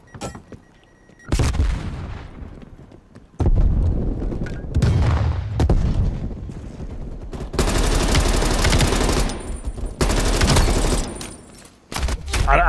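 Gunfire in a Call of Duty Black Ops Cold War multiplayer match: loud bursts of automatic fire with sharp shots, broken by short pauses, while a voice talks at times.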